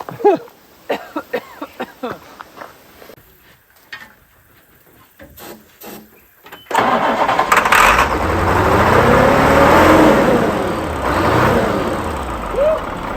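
A few sharp taps and cranking noises, then a truck's diesel engine catches and settles into a loud, steady rumbling idle nearby.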